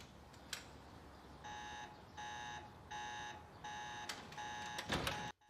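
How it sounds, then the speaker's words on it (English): Alarm going off indoors in a repeated pattern of five evenly spaced electronic beeping pulses, moderately loud over a quiet background, ending with a brief louder rustle. "Yeah, that's an alarm."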